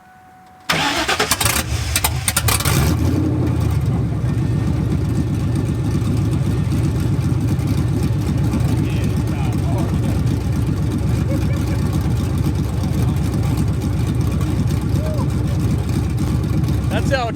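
A V6 Ford Mustang with a 2V setup and straight-pipe exhaust kicks on after a quiet second and then runs loud and close with a steady, rough, low rumble the whole way through, while voices talk over it.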